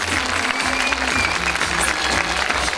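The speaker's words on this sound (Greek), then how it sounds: "Να τα ζεστάνουμε με ένα χειροκρότημα" A gymnastics display crowd breaks into steady, dense applause, loud and close throughout, with a low tonal hum running underneath.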